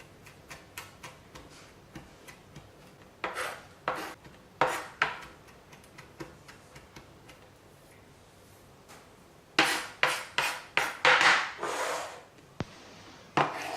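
Knife chopping ingredients for a marinade for a spatchcocked cockerel on a board, sparse taps at first, then a dense run of sharp, close chopping strikes near the end; no talk.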